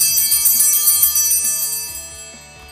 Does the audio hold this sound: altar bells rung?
yes